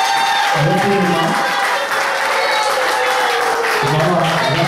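Applause for maman Anna and maman Cécile at a celebration: a loud, continuous wash of clapping and crowd noise, with a voice speaking over it.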